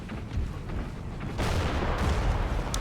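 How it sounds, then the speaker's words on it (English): Cannons bombarding in the strategy game Empire: Total War, a dense rumble of booms and distant blasts building louder partway through, with no talk. "Cannons continue to bombard here."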